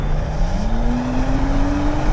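A brand new 2025 Audi S5's engine and exhaust under way, a loud, steady drone with a rising tone as the revs climb, heard from inside the car with no talk.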